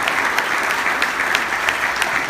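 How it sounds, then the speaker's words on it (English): A dinner audience gives sustained applause, a steady mass of many hands clapping evenly with no voices standing out. "can we give John a big round of applause, please?"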